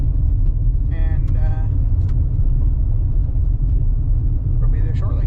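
A car travels along the road on the way to get a tire fixed, its low, steady rumble of engine and road noise close and continuous, with a few faint higher sounds on top.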